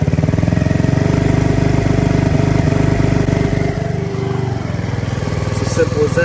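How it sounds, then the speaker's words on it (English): A small 50cc engine idles close by during carburetor adjustment, a steady rapid putter whose speed drops partway through as the setting changes, with someone talking over it. "You hear the engine RPMs go down."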